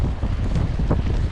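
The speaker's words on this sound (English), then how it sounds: "It's quite windy with, as you can see," Strong gusting wind during a New York blizzard in Corona and East Elmhurst roars steadily and close into the microphone, with no voices.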